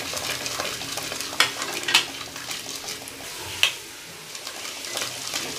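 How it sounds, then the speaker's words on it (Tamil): Peanuts roasting in a pan for Tamil coconut rice, with a soft continuous sizzle and occasional scraping of a spoon stirring them, a few sharper clinks standing out. "இப்போ வேர்க்கடலை நல்லா வறுபட்டுருச்சு."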